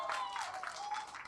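An audience at a film success celebration applauds briefly, a soft wash of many hands clapping at a distance with a voice faintly heard over it.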